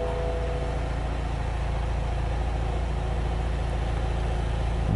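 A car engine idles steadily at close range, a constant low hum with no talking over it, during a mileage-tampering check.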